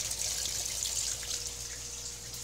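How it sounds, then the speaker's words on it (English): Clean water pours steadily from a hose into a fish tank as part of an automatic water change setup, making a continuous close splashing hiss with no voices. "open up the clean hose, and here it starts pouring it"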